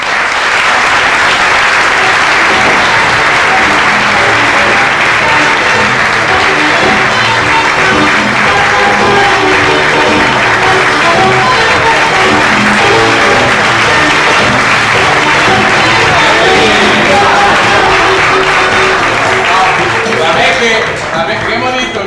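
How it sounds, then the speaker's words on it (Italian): A crowd applauds a band being introduced at an Italian book presentation event, with dense, loud, sustained clapping that continues steadily throughout. "Con un applauso per loro."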